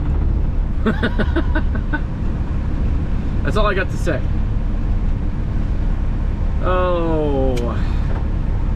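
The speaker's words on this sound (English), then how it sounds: "My truck's old school. It sounds cool." An old Freightliner FLD semi truck's engine drones steadily in a low, constant rumble beneath someone talking.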